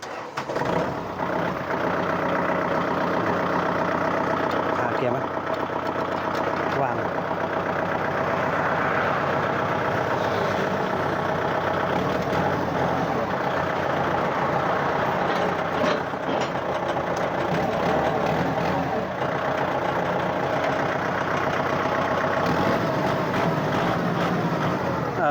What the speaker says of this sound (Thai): เราลองฟังเสียงเครื่องฮะ